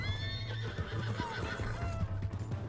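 A horse in Red Dead Redemption 2 whinnies in a high, wavering call over a steady clip-clop of hooves. The hoofbeats run through the whole stretch and are loud and close, with no speech.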